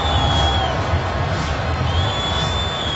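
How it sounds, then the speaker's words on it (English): Steady crowd noise from football fans in a stadium during a 2012 Steelers at Cowboys game, a broad continuous roar with mild booing mixed in, dense and sustained without pause. "There's only mild booing."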